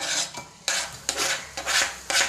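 Chopped tomato and onion tumble into a pan while making a sandwich filling, giving several short bursts of clattering and scraping against the metal, with quiet gaps between them and no voices.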